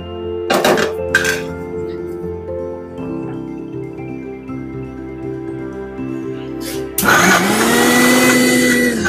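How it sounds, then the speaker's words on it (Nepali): An electric kitchen grinder runs in two bursts while grinding roasted fenugreek and spices: a few short pulses at the start, then a loud, sustained whir near the end, with a quieter humming stretch between. "अब मैले यसलाई पनि ग्राइन्डरमा राखेर पिस्दैछु।"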